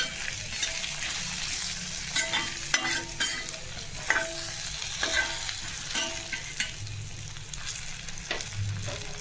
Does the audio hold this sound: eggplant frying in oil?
yes